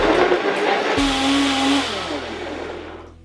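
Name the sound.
blender blending pasta sauce with pasta water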